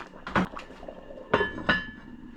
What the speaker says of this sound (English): Put the lid back on and let it simmer for another hour or so.